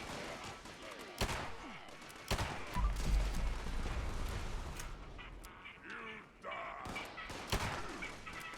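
Gunfire in the Fallout 76 video game, several sharp, loud shots spread across the moment, with game sound effects and a voice talking underneath.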